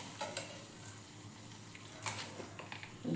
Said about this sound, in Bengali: তার মধ্যে আবার 2 চামচ চিনি দিলাম। একটু চিনিটা ভাজা ভাজা হবে